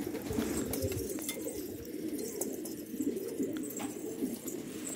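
Pigeons coo steadily in a loft of prized high-flying birds, a dense low murmur of overlapping calls filling the space, with occasional wing flutters and faint chirps above it.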